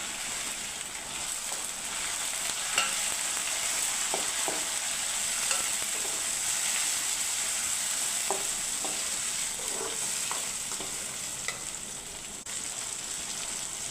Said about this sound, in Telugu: అల్లం వెల్లుల్లి పేస్ట్ వేగిన తర్వాత ఈ టమాటా ముక్కలు అందులో వేసుకోవాలి